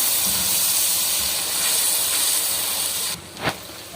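Turmeric powder and green chillies frying in a pan for a moongre, potato and pea curry give a loud, steady hiss and sizzle that cuts off abruptly, followed by a single brief clatter.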